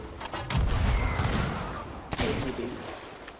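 Gunfire in Sea of Thieves, a couple of sharp, loud cracks with booming low rumble in between, heard close and over a busy background of combat noise.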